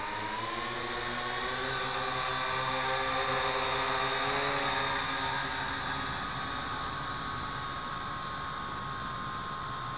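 A small toy quadcopter drone, a Syma X8C or Tarantula X6, flies nearby outdoors with a steady high-pitched whirring buzz of its propellers, constant and fairly loud, no voices.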